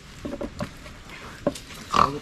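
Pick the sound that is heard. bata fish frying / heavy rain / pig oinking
pig oinking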